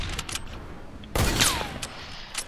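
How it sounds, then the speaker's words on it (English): A scoped weapon fires in the video game Fortnite: a single loud, sharp shot with a whistling tail, amid scattered lighter game noises. "Get something that has a scope and shoot through it."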